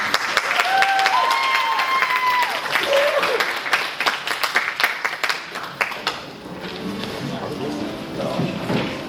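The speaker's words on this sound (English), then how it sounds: "please round of applause everyone" Lively applause at a banquet with scattered loud claps and a few whistles at the start, thinning into sparser clapping while voices carry on underneath.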